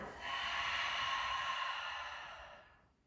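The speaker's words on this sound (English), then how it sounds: "Take an inhale through the nose and a big exhale through the mouth." A long, deep breath pushed out through the open mouth during yoga breathing practice, a breathy airy sigh lasting about two seconds that fades gently away, close and alone.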